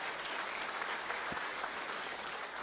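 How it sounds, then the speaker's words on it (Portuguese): Steady applause from a church congregation fills the whole stretch, sounding distant and even, with no voices on top. "Quem entendeu isso, dê uma salva de palmas a Deus em nome de Jesus."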